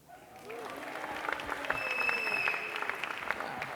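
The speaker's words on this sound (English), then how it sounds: "Thank you for the applause" An audience applauds at an award show, a steady wash of claps building from quiet and holding at moderate level, with a faint whistle and some voices mixed in.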